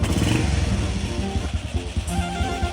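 A Honda Wave 125 motorcycle, just back from a carburetor cleaning after sitting unused for a long time, runs close by with a loud, rough, steady idle and a slight rev.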